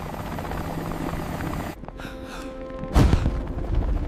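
An Apache helicopter thrums with a steady rotor drone that briefly dips, then a heavy boom lands about three seconds in as the rotor noise carries on loudly, with no talking.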